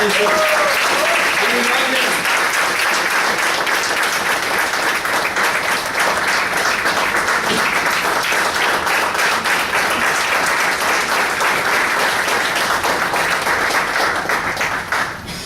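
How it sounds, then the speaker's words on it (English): Sustained applause from a crowd at a speaking contest fills the space, loud and continuous, with a few voices heard under it at the start. "So big round of applause for Deepak Nagar."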